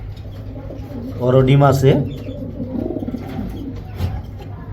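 Racing pigeons, a large Maxi pair among them, cooing close by in a short loud burst followed by softer coos, with someone speaking alongside.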